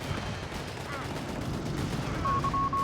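Continuous gunfire and explosions crackle in a Company of Heroes 3 battle, a dense rattle of shots throughout at moderate loudness.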